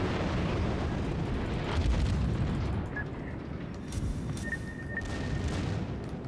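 Warship gunfire in World of Warships, an armor-piercing round, heard as a heavy continuous low rumble of booming shots with faint distant clatter and a few brief high tones over it.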